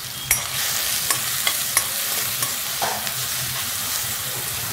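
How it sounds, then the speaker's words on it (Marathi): An onion, garlic, green chili and ginger paste sautés on a low flame for spinach kofta curry, a steady soft sizzle broken by several sharp spatula scrapes and taps against the pan, with no talking. "बारीक गॅसवर चांगलं परतून घ्यायचं."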